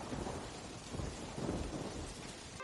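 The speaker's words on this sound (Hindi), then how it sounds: "मूसलाधार बारिश हो रही है।" Heavy rain pours down in a dense, steady roar, with deep rumbles of thunder swelling underneath, loud and close, and no voices.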